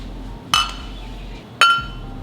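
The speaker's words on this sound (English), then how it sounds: "You're going to want to get a towel like this one and place whatever dishes you're going to use inside of the" Two crisp clinks as ramekins are set into a metal deep baking dish lined with a towel while making crème brûlée, each sharp and close with a short ringing tail, about a second apart.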